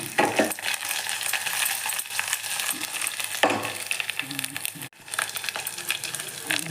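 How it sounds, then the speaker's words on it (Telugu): Two dried red chillies fry in a spice tempering. A moderate sizzle crackles under repeated stirring scrapes and small clinks, with a brief dropout partway through. "2 ఎండుమిరగాయలు కూడా వేసుకోవాలి. వేసుకుని బాగా పోపు కాలాలి."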